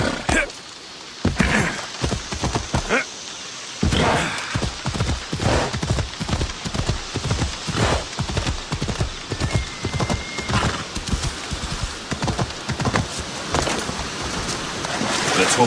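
Horse hooves clatter in a quick, rhythmic gallop in the video game Assassin's Creed Odyssey, loud and close, with a brief pause near the start before the pounding resumes and continues steadily.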